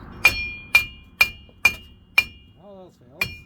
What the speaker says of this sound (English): All else fails. Hit it with a hammer.